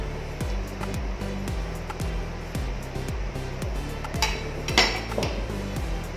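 Atchara vegetables, carrots, bell pepper, onion and garlic, being stirred in a bowl with a utensil, giving a steady run of clinks and scrapes in a regular rhythm, close and moderately loud.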